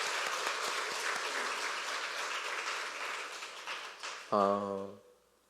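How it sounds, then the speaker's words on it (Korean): A church congregation at a Sunday afternoon worship service applauds a missionary speaker, with dense, even clapping for several seconds before a brief held tonal note cuts in and the sound fades out. "박수로 한번 격려해 주시면 감사하겠습니다."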